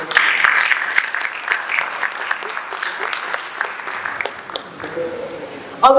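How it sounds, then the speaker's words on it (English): An audience at a keynote address breaks into a sustained round of applause, dense and even clapping filling the hall, tapering slightly before a voice briefly cuts in at the end. "Please, can you give them a round of applause?"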